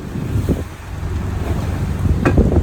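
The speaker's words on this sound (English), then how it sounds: "Winds kicked up early." Wind blowing across a sailboat near shore, loud gusty rumble against the microphone with water sloshing and a few knocks, no talk.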